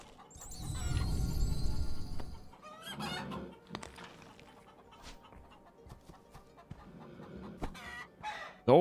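Video game chickens in Vampires: Bloodlord Rising clucking and squawking, a loud burst of cackling early on, then scattered softer clucks and bird calls, ending in a sharp squeal.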